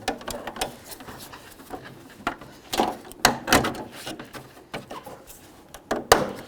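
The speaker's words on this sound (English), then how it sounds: "Line up your clips and go ahead and push them all in." Plastic grille clips on a 1994-2004 Chevy S-10 are pressed into place, giving a series of sharp, close snaps and clicks at irregular intervals, with a few louder pops near the end and no talking.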